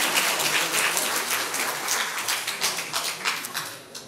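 A congregation claps at a church education department graduation ceremony, a dense patter of many hands that fades slightly, then swells again with sharper individual claps toward the end.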